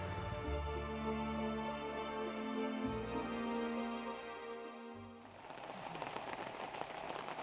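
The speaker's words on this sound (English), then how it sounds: "During the night, bad weather moves in, and we're hit by a heavy tropical rainstorm." Heavy tropical rainstorm at night in the Guyana rainforest, a dense continuous hiss of rain pounding surfaces with a low rumbling undertone, steady and loud throughout with no voices.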